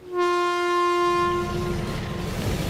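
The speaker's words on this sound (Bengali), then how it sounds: "তো ট্রেন চলে এসছে" A loud train horn sounds close by, then fades into the rumble and clatter of a train rolling in.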